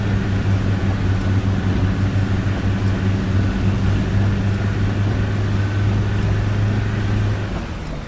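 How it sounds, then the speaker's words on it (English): Bus engine in the Fernbus driving game straining under load, a loud, steady low drone with strong tonal hum, continuous for several seconds and easing slightly at the end. "that engine, it really sounds like it's struggling"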